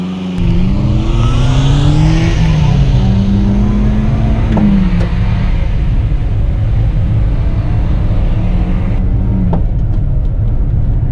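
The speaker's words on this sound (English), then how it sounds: "maybe the Clover 4 engine sounds a little sportier" A Subaru Sambar Dias kei microvan with its Clover 4 engine drives along, the engine loud and close throughout, climbing and falling in pitch through gear changes with a steady road drone beneath.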